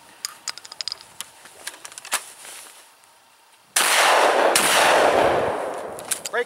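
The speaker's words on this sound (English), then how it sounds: "Break the gun, rounds pop out, searching in my pocket, dumping them in." A break-action shotgun used for self defense is opened by hand, with quick metallic clicks and rattles of the action and shells. A burst of loud rustling and rummaging follows, then more faint clicks.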